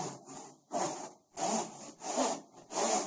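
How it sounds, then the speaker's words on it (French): Balls rolling inside swung Smovey rings make a rhythmic, rasping whoosh that rises and falls about every 0.7 seconds, close and steady with no voices. "pour que tu puisses entendre le bruit des billes, parce que ce bruit des billes, il a une importance"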